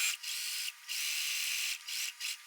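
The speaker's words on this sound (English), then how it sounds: "I'm just going to sew in a complete circle all the way around." A sewing machine runs in bursts while stitching a dress made from a dress shirt, a close high whirring hum with brief pauses between runs.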